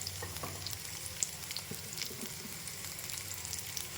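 Onion fries in a pan for a mint and fresh coconut chutney, a faint, even sizzle with a few light scraping ticks.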